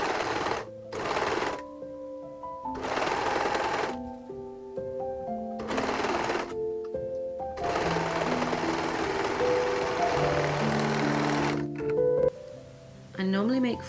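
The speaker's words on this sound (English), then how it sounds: "I'm going to overlock all of these seams together and then I can start on the skirt" An overlocker stitches the bodice seams of a dress in repeated loud, close bursts of rapid whirring, separated by short pauses, with a final stretch running longer.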